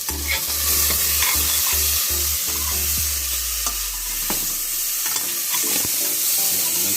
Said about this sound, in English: Make sure you got a good stir and fry going on.